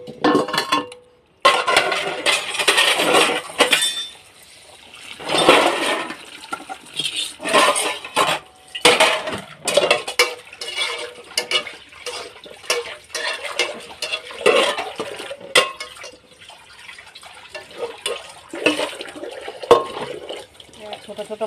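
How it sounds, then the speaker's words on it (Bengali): Small bowls being washed by hand and stacked into a wok (kadai), with repeated clinks and clatters of dishware mixed with splashing and running water in irregular bursts, close up. "ছোট ছোট বাটিগুলো ধুয়ে দিয়ে কড়ার মধ্যে রেখে দিই।"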